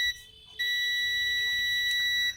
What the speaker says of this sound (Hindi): बीप भी आ रहा है।